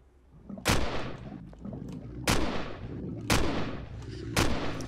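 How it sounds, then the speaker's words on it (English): In the space survival video game Empyrion: Galactic Survival, four heavy booming gunshots fire at the player at uneven intervals, each a sharp blast followed by a rumbling decay. "I don't know what's shooting at me."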